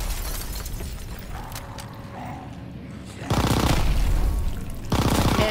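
Automatic gunfire from a weapon in the shooter Call of Duty WWII, two loud, rapid bursts of closely spaced shots following quieter game ambience.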